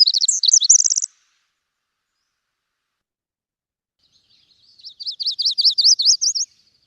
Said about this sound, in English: Winter wren, yep.